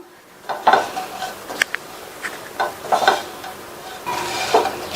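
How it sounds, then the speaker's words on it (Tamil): Pieces of bread toasting over a moderate flame are stirred in a pan with a utensil, giving close, irregular scraping and rustling strokes over a soft sizzle, with no talking. "மிதமான தீயில வச்சு மெதுவாக இந்த பிரெட் பீசஸ்லாம் அதனுடைய கலர் லைட்டாக சேஞ்ச் ஆகிற வரைக்கும் இந்த மாதிரி கிண்டி கொடுத்துக்கலாம்"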